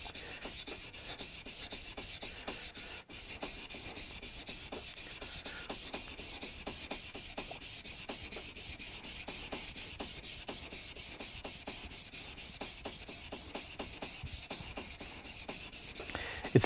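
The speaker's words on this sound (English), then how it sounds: "the longer it takes to sharpen a chisel, the longer it's probably going to stay sharp" A steel chisel is rubbed back and forth on a sharpening stone in a luthier's workshop, giving a long, steady rasping scrape with quick repeated strokes and a faint background hiss.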